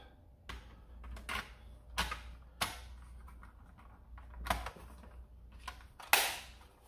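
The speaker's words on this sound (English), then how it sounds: "I'm gonna hold it together and just test fire it." A Hammershot toy blaster is test fired several times, giving sharp snapping clacks spaced irregularly over a few seconds, close and fairly quiet, with a louder final shot.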